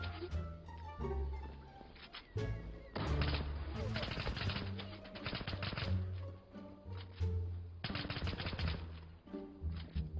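Light machine gun fire in the online shooter Zula, loud rapid bursts with short gaps, layered over game music and effects, no talking.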